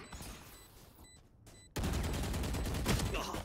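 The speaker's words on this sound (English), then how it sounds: "Hit him with your gun!" Gunfire in the video game Valorant on the Haven map: a sudden, loud, sustained burst of rapid shots that begins partway through and runs to the end, after a quieter stretch of game ambience.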